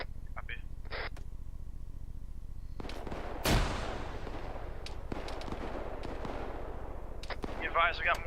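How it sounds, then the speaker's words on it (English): Gunfire rings out in a military video game, scattered single shots and one loud close crack followed by a long rolling echo, with radio-style voices talking between bursts. "We got more shots to the northwest compound, over."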